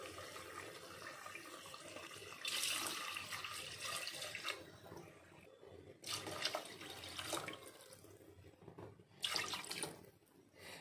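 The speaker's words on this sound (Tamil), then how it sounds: "இதில் நம்ம தண்ணி அளந்து ஊற்றிக்கலாம்." Measured water is poured into a pressure cooker with basmati rice for chicken biryani, heard as several separate splashing pours with brief pauses between them, soft and close.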